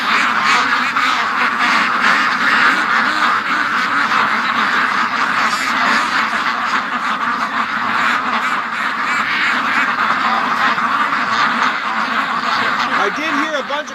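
A flock of ducks quacks continuously and close by, overlapping calls in a busy chorus with some honking mixed in.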